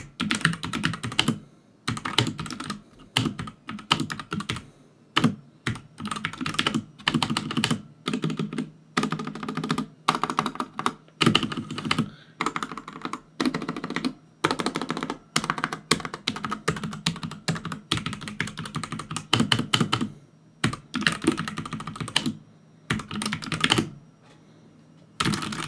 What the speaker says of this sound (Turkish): Gelin şimdi sizlerle birlikte klavyenin tuş seslerine bir bakalım